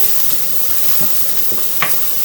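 Mushrooms and onions sizzle steadily in a frying pan for a vegetable curry while a utensil stirs and scrapes through them, with a brief sharper clink near the end.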